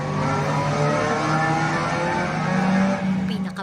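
Racing simulator game at a Toyota car museum in La Union, with a steady, loud engine drone and rising revs filling the whole stretch, ending in a brief rattle.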